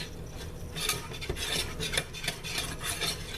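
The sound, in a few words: stirring Cajun seasoning and parsley flakes together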